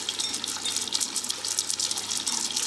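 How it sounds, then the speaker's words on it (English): Beef broth poured into a mixing bowl holding miso paste, a loud, steady, close-up splashing gush of liquid lasting a few seconds. "In a medium mixing bowl, I am adding 1/4 cup of miso paste, 2 cups of beef broth."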